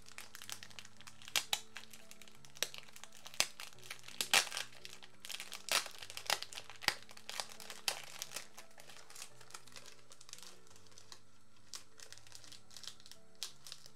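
Packaging for a BTS merch box crinkles and tears as it is opened, giving a series of close, irregular plastic and paper rustles with sharper snaps, some louder bursts midway, then quieter handling.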